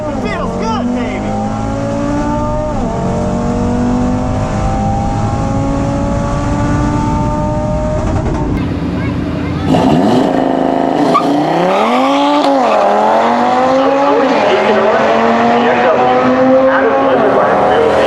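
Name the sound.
Audi RS3 on drag radials launching and accelerating in a race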